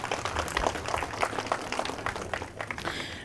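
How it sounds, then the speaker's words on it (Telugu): Applause from a crowd of villagers at a centenary celebration of Ramachandrapuram village near Warangal, a dense spatter of many hands clapping steadily for a few seconds, moderately loud and fading slightly near the end. "చప్పట్లు."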